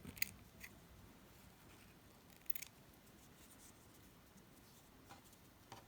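Scissors snip a small circle out of fabric, giving faint, close, sparse cutting clicks and soft rustles over a quiet background.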